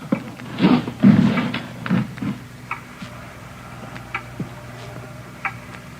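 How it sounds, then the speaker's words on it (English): A loud clock ticks in an old radio crime drama, sharp evenly spaced ticks standing out in a quiet room after a few heavier thumps and shuffling noises at the start. "It's a loud clock, ain't it?"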